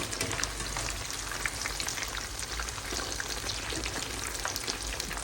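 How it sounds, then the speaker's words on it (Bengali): Eggplant slices fry in a pan with a dense, steady sizzle and crackle of hot oil, continuous and close throughout with no voices. "এই কয়টা বেগুন আমি করে ফেলি, নিজেদের জন্য ভেজে রেখে দিই"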